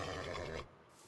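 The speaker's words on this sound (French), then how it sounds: "D'être très fort ce cheval avec tous ses points de vie" A horse in the Minecraft video game gives a short, loud whinny that cuts off abruptly, followed by near silence.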